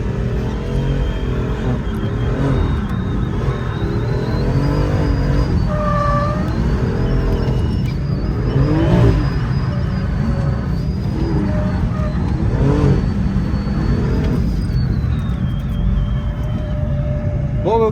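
A BMW M4 drifts around a race track at Vaison, its engine droning and rising and falling loudly throughout under wind buffeting, with people talking over it.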